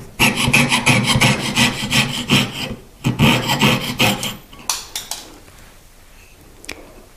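Metal is trimmed for a handmade jewelry box ring, with quick, close, rhythmic rasping strokes for several seconds, then a few scattered scrapes and taps as the work slows.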